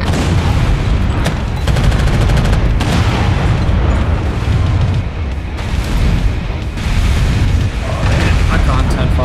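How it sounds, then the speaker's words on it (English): Loud, dense booms and crackling blasts from an internal ammo explosion in the video game MechWarrior 5, a rapid burst of explosions with a brief lull midway, no voices. "Internal ammo explosion detected."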